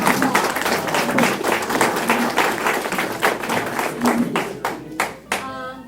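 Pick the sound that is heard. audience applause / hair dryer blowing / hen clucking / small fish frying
audience applause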